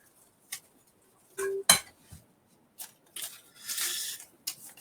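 Paper name slips stirred by hand in a bowl for a prize draw, a few brief rustling swishes and light clinks separated by pauses, close and quiet with no talk.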